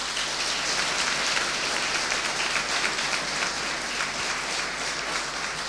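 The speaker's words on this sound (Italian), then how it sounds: "un grande applauso alla dottoressa Angela Paravati" An audience inside a prison hall applauds a staff doctor, producing a steady, even wash of clapping that sounds almost like rain and holds at a constant level throughout.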